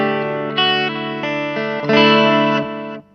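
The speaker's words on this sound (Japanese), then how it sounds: "これ3つ目ね、テープエコー。" Sustained electric guitar chords ring out through a Zoom multi-stomp tape echo patch, with a layered, repeating echo trailing each strum, several chord changes played close and loud with no talking.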